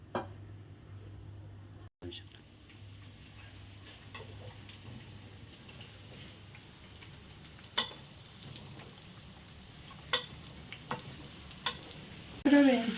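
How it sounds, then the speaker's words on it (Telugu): Small amla gooseberries fry in hot oil with a soft, steady sizzle and occasional sharp pops and clinks of stirring that grow louder toward the end. "ఇప్పుడు మనం ఇందులో ఆయిల్లో వేయించుకోవాలి"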